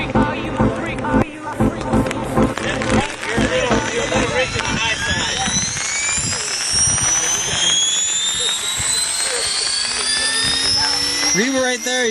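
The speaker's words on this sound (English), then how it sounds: "Get that generator up. I want to hear the blades." The rotor blades of a T-REX 600 RC helicopter spin up at night with a rising, whining pitch and a dense mechanical roar, loud and close, while a voice talks intermittently over it.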